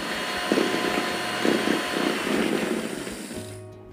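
A mixer beats four eggs for a milk cake batter with a steady, close motor whine that rises and dips slightly, then cuts off abruptly just before the end.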